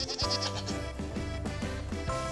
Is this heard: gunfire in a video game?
no